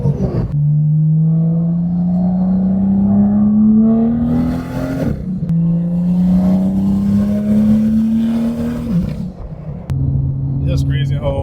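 A BMW F87 M2 fitted with an F55 engine and carrying a small boost leak accelerates hard through the gears. The loud, close engine note climbs steadily in pitch, and two sharp upshifts break the rise. No one speaks.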